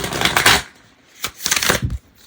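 A small tarot deck riffle shuffled twice by hand, each a short, crisp burst of fluttering card snaps, close and alone.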